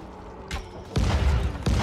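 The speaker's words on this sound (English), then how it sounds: "Explosion arrows." Explosive arrows detonate in the video game Dying Light: a sharp blast, then a bigger, louder boom with a rumbling tail, and another burst right at the end.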